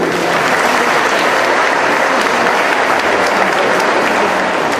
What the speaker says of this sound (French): Mais applaudissez-les.